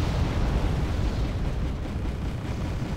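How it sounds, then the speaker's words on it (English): Heavy mortar shells land in a Wargame: Airland Battle match, a dense, continuous low rumble of blasts rolling together at steady loudness for the whole stretch, with no single crack standing out. "More heavy mortars coming in."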